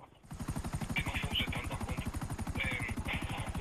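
A Buzzard combat helicopter in Grand Theft Auto V flies with a steady, loud, rapid rotor thump and a whining engine tone throughout, heard from inside the cockpit.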